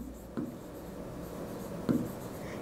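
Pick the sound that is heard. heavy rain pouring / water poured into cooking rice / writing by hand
writing by hand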